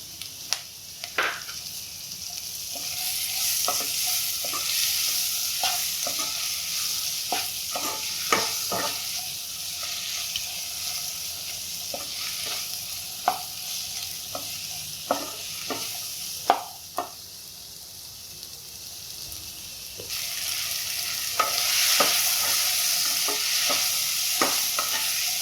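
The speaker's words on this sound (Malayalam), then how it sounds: "മഞ്ഞൾപ്പൊടി ഇട്ടൊന്ന് ഇളക്കിയിട്ട് രണ്ട് തക്കാളി ഇട്ട് കൊടുക്കാം അരിഞ്ഞ് വെച്ച്" Turmeric and two chopped tomatoes frying in a pan for chana masala gravy, with a constant sizzle broken by scattered clinks and scrapes of a spoon stirring, the sizzle flaring louder near the end.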